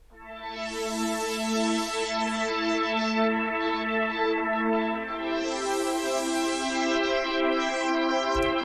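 A sustained synth pad processed by the Vapor Dimension stereo widening plugin on a mono source, holding a steady chord with slowly shifting, shimmering movement, loud and alone.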